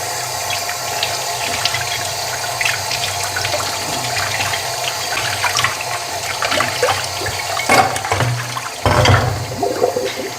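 Tap water runs steadily over dyed red eggs being rinsed, a close, continuous splashing stream with brief louder gushes and clatter toward the end.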